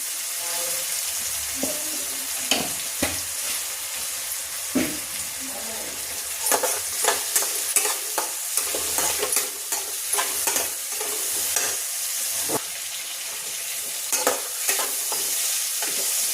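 Tomatoes with masala cook in a pan for stuffed brinjal while a spoon stirs and scrapes, giving a steady sizzle with repeated clinks and bursts of spattering, close and without talk.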